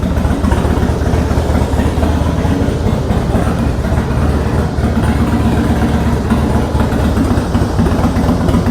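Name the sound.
2003 Harley-Davidson FXST idling with Vance & Hines Big Shots exhaust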